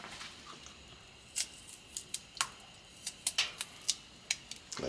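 A knife cuts seafood in half for a seafood boil, heard as a string of faint, sharp, irregular taps and clicks against a quiet, hissy background.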